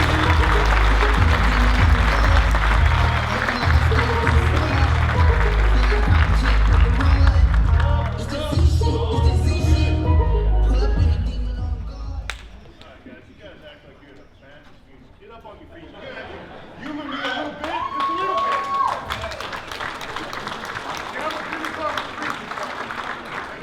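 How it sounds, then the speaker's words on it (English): Audience applause fills a live show as performers are welcomed on stage, loud and continuous clapping with crowd noise for about twelve seconds before fading into quieter room sound and murmuring. "Give them a round of applause."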